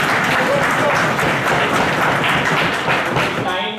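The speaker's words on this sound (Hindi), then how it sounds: "एक दफ़ा फिर भरपूर तालियां" An audience at a press conference gives a round of applause, steady many-handed clapping filling the room for a few seconds, fairly close and loud, with a few voices underneath.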